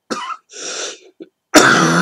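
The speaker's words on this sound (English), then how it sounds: "I've just got over the chesty cough." A chesty cough from a man recovering from illness: a few harsh, phlegmy coughs with throat clearing in two quick bursts, a pause, then a louder, rougher cough, close up and without talk.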